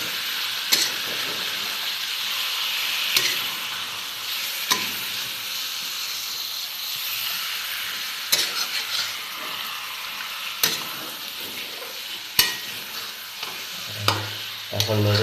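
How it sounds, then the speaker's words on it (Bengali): Chicken sautés in a pan under a soft, steady sizzle. Sharp scrapes and knocks from stirring break in every second or two, with a short louder burst of frying near the end and no talk. "এখন কষানো হবে একটু। এখন এটাকে ভালো করে নাড়াচাড়া দিয়ে"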